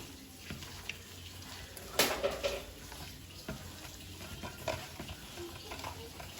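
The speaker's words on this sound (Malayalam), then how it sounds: "ചെറുതായിട്ട് അരിഞ്ഞു വെച്ച ചിക്കൻ ഇടുക. ഇട്ടതിന് ശേഷം നമ്മളൊന്ന് മിക്സ് ചെയ്യണം" Chopped chicken for chicken peera drops into a hot pan and is stirred, with a continuous soft sizzle of frying beneath scraping spoon strokes and a few louder clatters.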